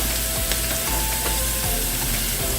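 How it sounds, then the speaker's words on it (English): Diced butternut squash hitting a hot pan, loud close sizzling with brief stirring clicks and scrapes throughout, no talking. "now I'm going to add my butternut squash"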